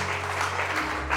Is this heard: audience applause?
yes